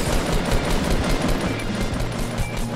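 Rapid automatic gunfire from a Fortnite battle, dense overlapping bursts of shots filling the whole stretch at steady loud volume with no pauses.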